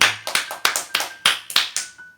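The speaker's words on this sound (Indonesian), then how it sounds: "Beri kemuliaan buat Tuhan Yesus dengan tepuk tangan" Hand clapping during an online church worship service, around nine sharp, separate claps in an uneven rhythm, each ringing briefly in a reverberant room.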